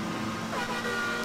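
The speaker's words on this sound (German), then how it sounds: "Ein Auto!" A car in the video game Super Mario 3D World gives a brief, continuous engine-like hum that stays at an even level throughout, blended with dense game sound and no voices.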